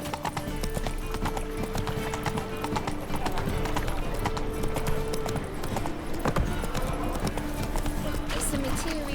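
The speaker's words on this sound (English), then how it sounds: "Run, Roach." Roach, a horse in The Witcher 3: Wild Hunt, gallops with steady, rapid clip-clop hoofbeats and an occasional whinny, under continuous game music and ambience, with a voice speaking over it.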